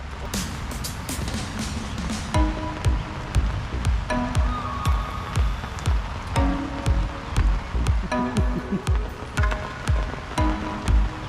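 Steady rain falling outdoors at a lakeside fishing spot, a dense, close hiss with irregular heavier drops and patters spread evenly over the whole stretch, with no talk.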